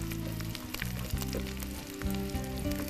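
Onions sizzle and fry in a pan with a steady, close crackle and hiss that carries on throughout with faint stirring.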